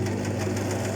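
An Elna sewing machine from 2006 runs steadily while stitching a four-step buttonhole, giving an even, close mechanical whir with a fast repetitive motor hum that stays at a constant level for about a second, with no talk.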